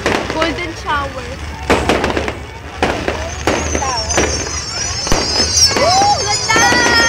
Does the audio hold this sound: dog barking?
no